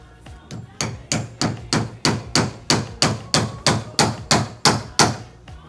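Steady hammering, about a dozen loud, evenly spaced blows close by, each ringing briefly before the next strike.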